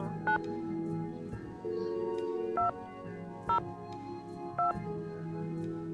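Telephone keypad tones in a Nancy Drew game, four short separate beeps with pauses between them, over a soft steady background hum.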